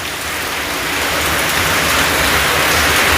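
Heavy rain pours down in a dense, steady roar of drops hitting surfaces, loud and close, with no voices over it.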